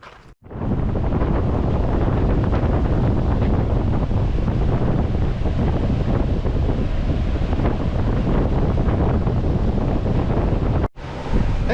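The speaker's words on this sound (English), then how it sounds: "turn on the pump so that it actually works as a cooler" A swamp cooler with its water pump switched on runs steadily at close range, a loud, continuous broadband rush and hum with no speech, cutting out briefly near the end before resuming.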